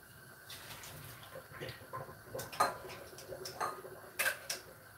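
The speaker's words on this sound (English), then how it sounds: "we're going to strain these potatoes, and I strain them in a colander" Boiled potatoes are tipped into an old colander in a kitchen sink, with water splashing and the metal colander rattling and ticking in irregular bursts, near and moderately loud, with no talking.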